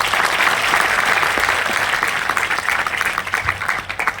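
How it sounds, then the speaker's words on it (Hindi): Loud, sustained applause from a large audience at a Vestige company seminar in Kanpur, dense clapping that holds steady and then thins slightly toward the end. "एक बार जोरदार तालियां।"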